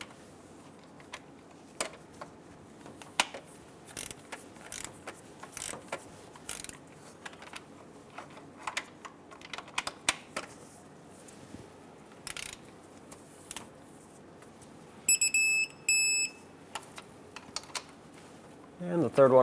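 Bolts on the power steering pump of a 2003-2009 Dodge Ram 2500 being tightened with a ratcheting wrench, giving scattered quiet clicks and short metallic bursts, with a denser clatter near the end.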